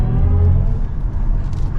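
A 2023 BMW i7 xDrive60 electric sedan accelerating hard from inside the cabin, a loud steady whir and rising road roar sustained without pause.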